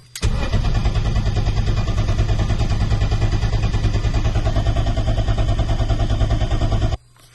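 A turbocharged M50-engined BMW E30 idles steadily with a hunting idle for several seconds, loud and close, then cuts off abruptly.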